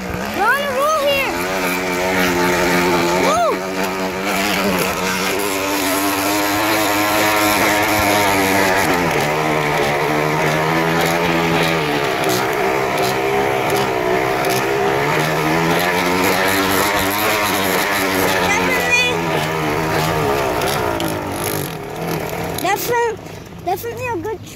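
Bicycle rigged to sound like a dirt bike while being ridden, giving a loud, continuous buzzing engine-like drone that rises and falls in pitch with pedaling speed, with people talking over it throughout.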